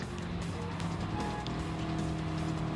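Race car in Gran Turismo Sport, during a Manufacturer Series online race, powering out of a corner on full throttle: a steady, loud engine drone with layered tonal whine and faint tire noise.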